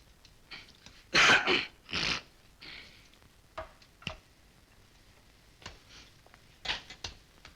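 A man clears his throat and coughs in a film scene, several harsh bursts, the loudest early on, then a scatter of quieter coughs and clicks.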